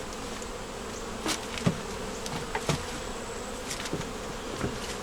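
Honeybees buzzing around hive frames pulled during an inspection, a soft continuous hum with a few louder bees passing close by in brief swells.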